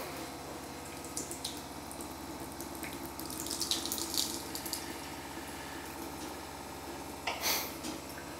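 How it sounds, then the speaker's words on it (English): A kitchen faucet runs water through a Simpure T1-400 tankless UV reverse osmosis filter system, a steady hiss and trickle with a low pump hum beneath, plus a few brief splashy surges, no voices. "now we're going to turn the faucet on. What it's doing right now is pumping water through the filters"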